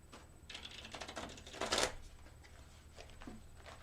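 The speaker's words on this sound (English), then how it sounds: "So I'm going to shuffle these cards 3 more times." A deck of cards is shuffled up close, a quick riffling flutter followed by a few lighter taps and shuffles, faint and brief.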